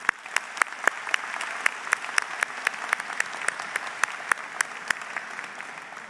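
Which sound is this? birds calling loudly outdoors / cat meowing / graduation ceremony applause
graduation ceremony applause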